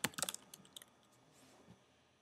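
A short flurry of keystrokes on a computer keyboard, close and quiet, with a handful of quick clicks at the start and a few scattered taps after.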